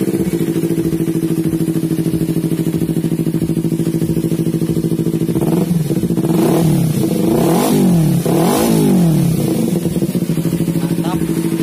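A Kawasaki Ninja 250 FI motorcycle with an aftermarket exhaust idles with a throaty, loping note, then revs up sharply several times midway, the engine climbing and falling in loud bursts.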